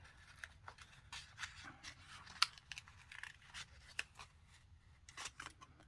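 Scissors trimming a snug piece of card paper for a handmade greeting card, giving quiet, sparse snips and papery rustles, with one sharper cut standing out.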